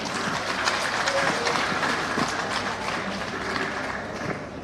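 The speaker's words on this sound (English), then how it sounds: "Another round of applause for her." Applause from a crowd at a political party consultative meeting fills the room as a steady, dense wash of clapping with some background murmur, lasting throughout without a break.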